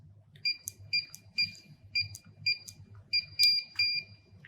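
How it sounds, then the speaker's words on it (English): A wireless security keypad gives a series of short, bright electronic beeps in quick pairs, sounding alone and close in a quiet room. "Your keypad should beep twice, indicating that the access code has been successfully deleted."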